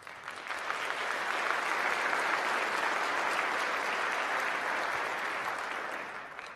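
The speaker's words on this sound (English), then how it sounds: "That was probably Steve leading the applause." At a county State of the County address, a large audience gives a sustained, dense wash of applause that holds steady for about six seconds and then tapers slightly at the end.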